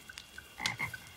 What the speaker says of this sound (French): Ça, une grenouille?